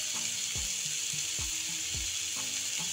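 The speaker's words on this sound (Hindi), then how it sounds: "अब इन सबको रोस्ट कर लेंगे।" Chopped capsicum, salt, red chilli powder and turmeric sizzle steadily in a hot pan for street-style cheesy masala Maggi, with a constant hiss broken by rhythmic scraping strokes of a spatula.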